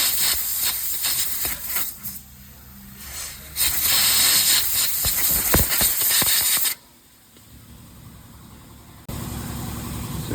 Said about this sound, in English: I want to brake clean the hole.